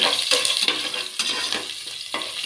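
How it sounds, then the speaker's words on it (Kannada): Curry leaves, cumin, bay leaf and ginger-garlic paste fry in hot oil with a bright crackling sizzle, broken by several quick stirring scrapes against the pan. "ಇದೆಲ್ಲ ಚೆನ್ನಾಗಿ ಫ್ರೈ ಆಗಬೇಕು."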